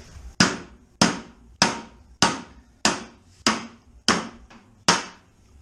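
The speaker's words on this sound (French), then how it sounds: "La cale de bois, le marteau" A hammer strikes a wooden wedge eight times at a steady, even pace, each blow a sharp close knock with a short ringing decay.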